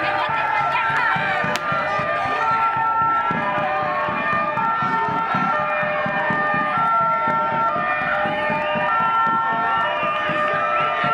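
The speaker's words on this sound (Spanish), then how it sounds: "prendieron la sirena y no hicieron nada" Police siren wailing steadily with rising and falling tones across a rowdy outdoor scene, loud and continuous over crowd noise and shouting during unrest with stone-throwing.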